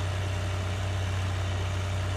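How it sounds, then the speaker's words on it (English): A tractor engine idles in Farming Simulator 2013, a steady low hum that holds unchanged with no talk over it. "You immediately take your tractor out and start working it."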